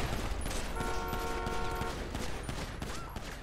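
Rapid gunfire crackles in dense, continuous bursts in a video game roleplay, loud and close, with a brief steady tone sounding partway through.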